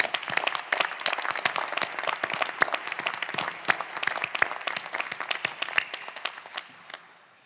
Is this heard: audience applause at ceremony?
yes